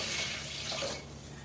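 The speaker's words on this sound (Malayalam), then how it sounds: "അപ്പൊ നമുക്ക് 1 കപ്പ് വെള്ളം ഒഴിച്ച്" A cup of water pours into a cooking pot, a brief steady splashing gush that eases off near the end, close and alone.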